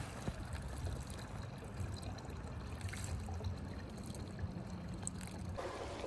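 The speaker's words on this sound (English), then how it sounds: "now we're gonna dispose of the old coolant and we're gonna put it back into the bottles we just used" Old engine coolant from a radiator flush being poured into bottles, a quiet steady trickle and gurgle of liquid running on without pause, faint and close.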